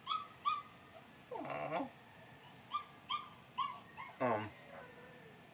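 A puppy whimpers and yips across the street, a few thin high cries coming in short bursts, faint and distant, while a voice murmurs nearby.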